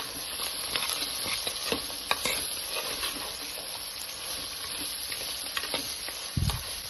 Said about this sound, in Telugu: ఇప్పుడు ఇందులో బీరకాయ వేసుకోవాలి సన్నగా తరపెట్టుకున్న పెట్టుకున్న బీరకాయ వేసుకోవాలి ఒకసారి మంచిగా బాగా కలుపుకోవాలి